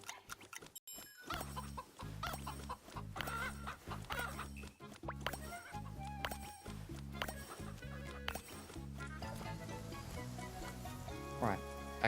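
Chickens cluck repeatedly in a farm video game, short bursts layered over looping background music, fairly close and mixed with other game sounds.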